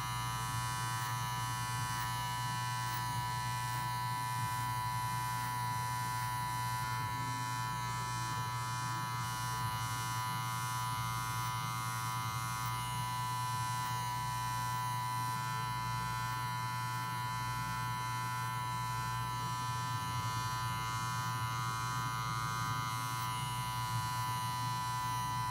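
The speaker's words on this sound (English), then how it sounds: "If you gotta hold the clipper a certain way." An electric hair clipper buzzing steadily during a self haircut, a close, continuous high-pitched motor whine lasting the whole stretch with no talk.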